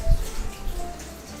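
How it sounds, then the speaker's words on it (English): Raw chicken rinsed under running water at a kitchen sink, a short close splash followed by a steady soft stream of water. "to the sink one last time. Give him one last little rinse."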